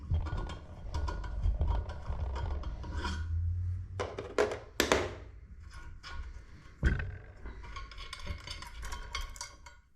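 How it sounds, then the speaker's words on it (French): Metal tools work a valve spring off an engine cylinder head, giving scraping, ratcheting clicks and sharp metallic clacks in irregular bursts, close and fairly loud, with no talk. "On desserre le ressort."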